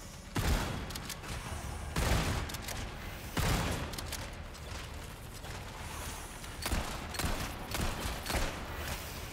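Bursts of gunfire from the Resident Evil 4 Remake DLC Separate Ways: several loud, sharp volleys spaced a second or two apart, with rattling weapon mechanisms and game ambience between shots.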